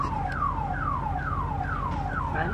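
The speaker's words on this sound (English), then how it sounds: "the people in the camera can hear the alarm going off across the street" A car alarm across the street whoops repeatedly in a steady rhythm of descending tones, heard from some distance over a low background hum.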